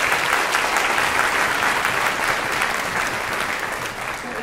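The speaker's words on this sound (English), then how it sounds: "A round of applause for all the parents." Audience applause at a children's summer strings concert: a steady, dense, close round of clapping that fades slightly toward the end.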